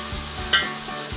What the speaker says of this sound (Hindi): इसको थोड़ा सा भून लेना है ताकि जो है गोश्त जो है उसमें मिर्ची मसाले का अच्छी तरह असर चला जाए